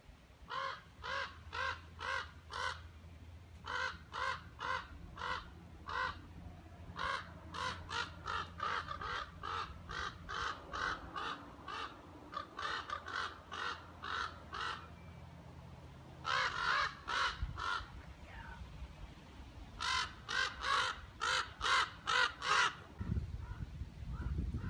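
Raven cawing over and over in bursts of harsh calls, loud and near, with short pauses between runs and a brief low rumble near the end.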